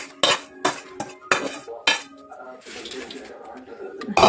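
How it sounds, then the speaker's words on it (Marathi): Fried chivda masala gets tossed into poha chivda in a pan for a Diwali snack, with several sharp metallic clanks of a utensil against the pan and then quieter scraping and stirring, a voice briefly heard. "आता हा पूर्ण तळलेला मसाला आपल्याला चिवडा टाकून द्यायचा"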